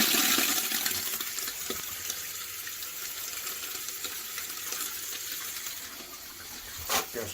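Water rushes steadily into a newly installed toilet tank, a constant hissing gush of filling that runs throughout, close and alone.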